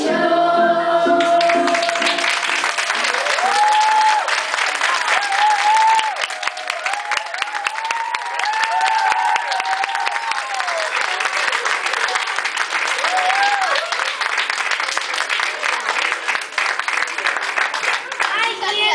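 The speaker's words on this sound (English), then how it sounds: "Applause" An audience at a children's magic show claps steadily and loudly for the performers, continuous dense applause mixed with crowd voices and a brief tonal sound near the start.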